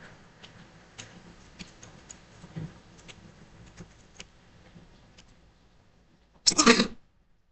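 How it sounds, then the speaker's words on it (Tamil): A single short, loud sneeze erupts near the end, after a stretch of faint, irregular ticking and tapping. "தும்மல் வந்துச்சு."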